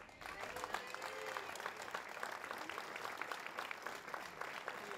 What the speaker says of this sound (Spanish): Y el aplauso de todos nosotros.